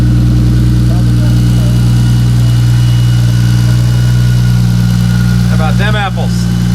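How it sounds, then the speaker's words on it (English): Toyota 2JZ-GTE engine swapped into a MKIII Supra, idling through a Pexi exhaust with an SLP resonator. The idle is loud, close and steady with a deep, low grumble throughout, and a brief voice comes in near the end. "Pexi exhaust with a SLP resonator. Gives it a nice little low grumble."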